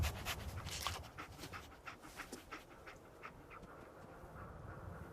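Dogmeat, the dog companion in Fallout 4, pants in quick, steady, soft breaths that go on throughout, fairly close and faint, with no talking.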